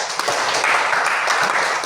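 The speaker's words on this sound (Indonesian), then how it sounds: "tepuk tangan" Students in a classroom break into brief applause, a dense wash of many hands clapping at moderate volume, close by and fairly even throughout.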